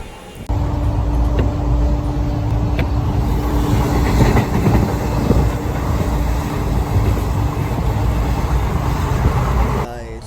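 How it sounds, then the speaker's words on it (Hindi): Inside a moving passenger train in India, a constant loud rumble and rattle of the carriage rolling on rails with occasional clicks, continuous throughout, ending abruptly near the close. "अभी हम ट्रेन में हैं"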